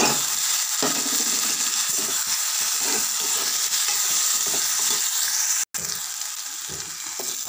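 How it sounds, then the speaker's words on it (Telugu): Ginger-garlic paste frying in hot oil with browned onions in a pan, a continuous close sizzle and hiss with occasional stirring scrapes and a brief break near the end. "ఎల్లిపాయ పేస్ట్ వేస్తున్నానండి."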